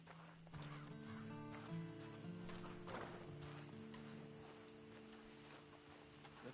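Horse hooves clip-clop and a horse whinnies in Red Dead Online, steady and fairly close over a continuous bed of game ambience and music.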